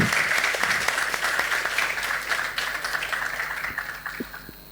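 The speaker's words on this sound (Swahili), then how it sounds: "Makofi tafadhali" Audience at a live leadership podcast event gives sustained applause, a dense wash of clapping that slowly fades, with a few isolated claps near the end.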